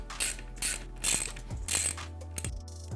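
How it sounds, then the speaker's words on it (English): A T30 wrench loosens the rear wheel nuts on a Pure Air electric scooter, making close, rhythmic ratcheting clicks in repeated bursts with short pauses, and nobody talks. "Take your T30, and you can loosen the rear wheel nuts."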